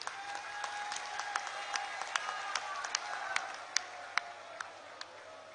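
Faint, distant applause from an audience at a political rally rolls on as a steady wash of clapping, punctuated by a few sharper individual claps standing out from the crowd.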